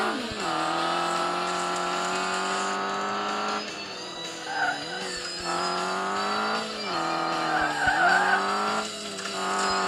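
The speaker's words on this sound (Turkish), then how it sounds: "Araba niye çok kayıyor ya?" Video game car engine in Rally Fury droning steadily at high revs, with pitch dips and bursts of tire squeal as the car slides through turns; loud and continuous, no talk.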